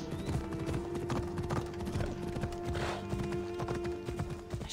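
Horse galloping in Assassin's Creed Odyssey, a steady rapid clip-clop of hooves over continuous game ambience, with a faint whinny.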